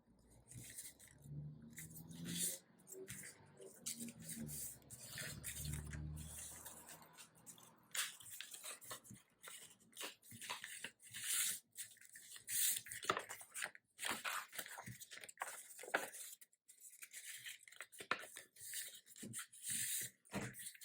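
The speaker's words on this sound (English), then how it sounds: "So now I'm just going to fold and burnish the lines we've just made." Gift wrapping paper is folded and burnished around a chocolate bar, with close, quiet crinkling, rubbing and scraping strokes repeated irregularly over about twenty seconds and no talking.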